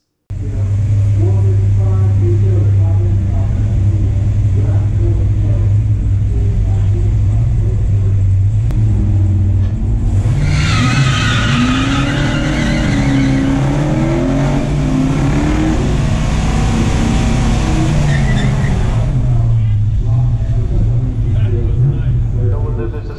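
A 1970 Chevelle LS6 454 and a Plymouth in a drag race tiebreaker: loud, deep engine rumble at the line, then a roaring, rising surge of acceleration for several seconds before settling back to a lower rumble.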